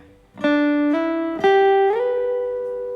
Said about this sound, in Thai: ให้เพื่อนๆสไลด์สาย 2 ช่องที่ 8 นะครับสไลด์มาที่ช่องที่ 12 เลย